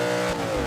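Loud, close engine roar of a Dodge Ram truck in the BeamNG driving game, a steady high-revving drone with no voices over it.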